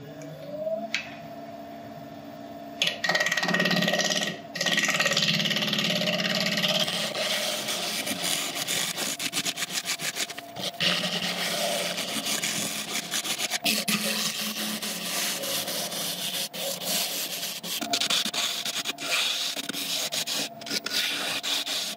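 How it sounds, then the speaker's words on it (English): An elm bowl turning on a lathe, worked with a ball gouge and a scraper, giving a steady, loud scraping and rubbing hiss with a hum underneath and occasional sharp clicks as the tool catches. "Just this final corner to do. I'm going to do in conjunction with my ball gouge and a scraper"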